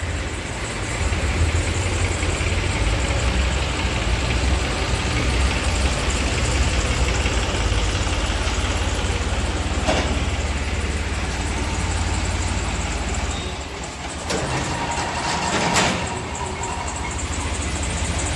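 A tractor hauling steel sheets at the Alang scrap market runs with a continuous low, rumbling engine drone. It stays steady and prominent for the whole stretch, with a few faint clanks and knocks over it.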